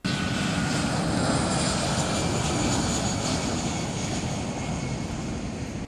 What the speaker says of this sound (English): His private plane departed the Chadijigan International Airport at approximately 9:45 a.m.